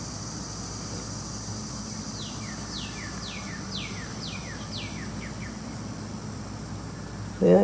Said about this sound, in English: I do love to listen to the birds